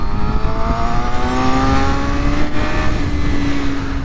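A Suzuki GSX-R750 sport motorcycle engine hums loudly up close, its pitch climbing steadily as it accelerates, with wind rush underneath.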